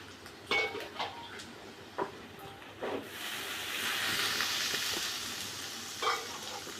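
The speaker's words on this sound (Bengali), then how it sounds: "এবার দিয়ে দেবো পরিমাণ মতো জল" Water poured into a hot pan of spiced potato, pointed gourd and fish-roe kofta, starting as a few soft clinks and taps, then a broad sizzling hiss that swells and holds, close and moderately quiet.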